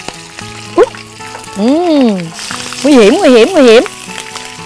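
Freshwater prawns with their claws fry in hot oil outdoors in a garden, giving a steady crackling sizzle under loud, sung-out exclamations from a woman.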